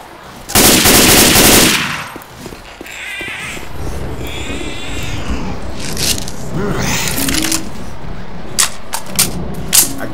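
Gunfire in Left 4 Dead 2: a loud automatic burst up front, followed by scattered shots, impacts and chaotic combat noise, with a few sharp single shots near the end.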